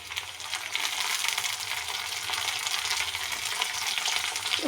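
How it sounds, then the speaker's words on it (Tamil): Tomato and onion frying in a pan give a steady, dense sizzle and crackle throughout, close by with no talking. "ஒரு டொமேட்டோ போட்டுருக்கோம். டொமேட்டோ நல்லா ஃப்ரை பண்ணிக்கலாம்."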